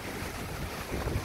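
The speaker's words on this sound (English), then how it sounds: "it's just really windy" Strong wind roars steadily over a beach at night at Richardson Beach in Hilo, Hawaii, with a constant rushing buffeting.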